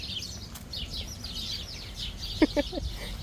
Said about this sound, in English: What's going on with these birds, chickens?